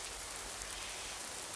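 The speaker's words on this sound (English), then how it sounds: "Tropical rain, it comes down so suddenly." Tropical rain falls steadily in a dense, even hiss of drops, continuous and fairly soft throughout, with no voices.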